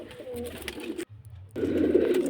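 Pigeons, including black Madrasi birds, cooing in a netted loft, soft low coos close by and continuing throughout with a short quiet break, then a fuller burst of cooing and rustle.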